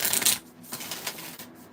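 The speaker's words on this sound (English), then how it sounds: "I'm going to give this a little shuffle." A deck of tarot cards is shuffled by hand, starting with a burst of riffling and followed by softer, scattered card slides and taps nearby.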